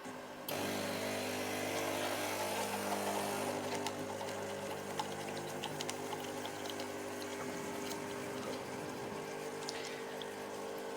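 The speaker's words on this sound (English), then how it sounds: "Press the rinsing button and it will rinse through the brew unit and the mixing bowls" A coffee machine rinsing its brew unit and mixing bowls, with a steady pump-like hum and running water starting abruptly and continuing evenly throughout, close and fairly loud.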